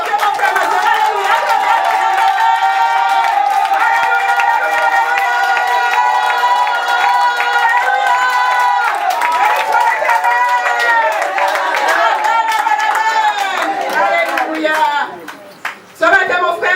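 An evangelical church congregation worships aloud, cheering and clapping in a continuous, energetic swell of many voices that stays loud throughout, then briefly dips and breaks apart near the end.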